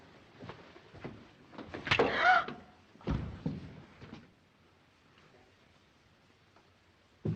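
A door shuts with a dull thunk in an old 1937 mystery film, a single close slam after shuffling movement, followed by quiet and another brief knock at the end.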